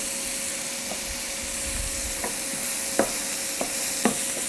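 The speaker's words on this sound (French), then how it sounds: "on cuit en remuant sans cesse, de façon à bien faire fondre les champignons" Mushrooms and pancetta cook in a pan, kept moving with a utensil that taps lightly a few times over a soft, steady sizzle and a faint hum, with no voices.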